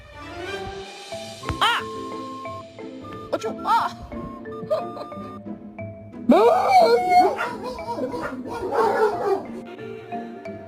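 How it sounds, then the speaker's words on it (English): A puppy yips, barks and whimpers in short high-pitched bursts while being pranked indoors, close and clear, with quiet gaps between outbursts and a louder run of barking midway. "Pranking the puppy."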